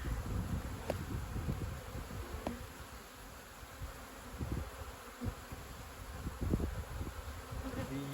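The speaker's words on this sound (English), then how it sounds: "That's a lot of bees there." Honeybees swarming over an opened hive during an early spring inspection, a steady close buzzing hum with individual bees droning past the ear, fairly soft and continuous with no talking.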